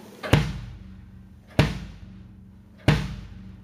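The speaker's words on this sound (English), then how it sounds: "I'm going to play the bass drum with the beater coming off the head" Three solo bass drum hits from a plastic beater bouncing off the head, evenly spaced about a second apart, each a deep thump with a sharp clicky attack that rings briefly and fades.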